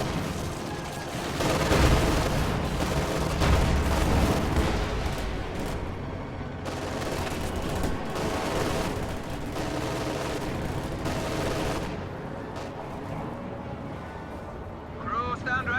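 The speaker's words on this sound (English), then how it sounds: "Stuka barrage going off once again, potentially taking out the field gun there on the left side" Stuka dive-bomber barrage in a World War II strategy video game, heavy rolling explosions and rapid gunfire booming in dense overlapping bursts under a commentator talking throughout.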